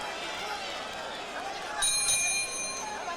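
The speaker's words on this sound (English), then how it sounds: "As we head for the bell, round number 7." Boxing ring bell ending round 7 of a title fight: a bright metallic clang rings out midway, ringing briefly over crowd noise and a commentator's voice.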